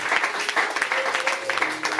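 Church congregation clapping together at a sermon, a steady dense patter of many hands filling the room, with faint vocal tones and voices mixed in underneath.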